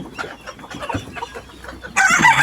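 Chickens on a small farm clucking in short scattered calls, followed by a louder burst of crowing and squawking near the end.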